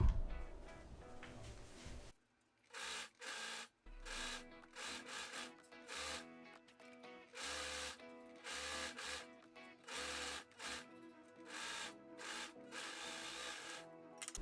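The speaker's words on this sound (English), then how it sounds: "overlock it along the entire length of the collar" An overlocker stitches along the collar seam of a quilted jacket made from an upcycled thrifted quilt, running in repeated bursts with short pauses between them, close and fairly loud, with no talk.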